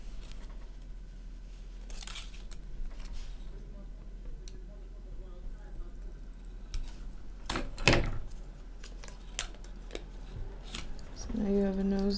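Paper is cut out with scissors in scattered close snips and rustles, quiet crisp cuts spread unevenly over a dozen seconds with a louder sharp cut in the middle.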